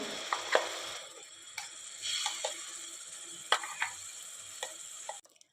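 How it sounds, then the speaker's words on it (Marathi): Wet grated coconut mixture sizzling as it goes into hot ghee in a pan, a steady broad hiss with scattered clicks and spatula scrapes, close and moderately loud, ending abruptly. "तूप छान गरम झालं की त्यात आपल्याला हे मिश्रण घालायचं आहे"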